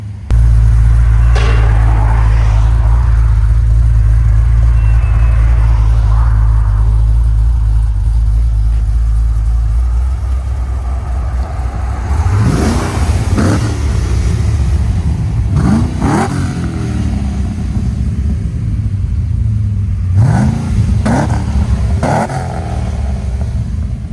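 A cammed Chevy Caprice 6.0L V8 with headers and full exhaust into Borla ProXS mufflers idles with a loping, choppy rumble, then revs sharply in several loud bursts that rise and fall back to idle, close up with no talking.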